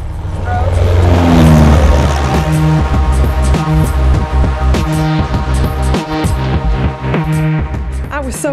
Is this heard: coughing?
no